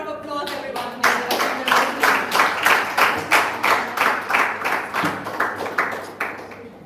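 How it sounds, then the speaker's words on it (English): An audience at an employee speech competition claps together in a loud, close burst of applause that swells quickly and holds with a rhythmic, pulsing beat before tapering off at the end. "Can we give them a round of applause, everyone?"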